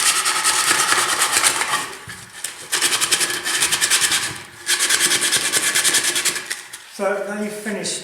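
Sandpaper rubs back and forth along the inside edge of a wooden utensil box in rough, hissing bursts of strokes separated by short pauses, close up, with a brief voice near the end.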